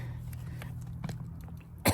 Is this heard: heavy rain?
no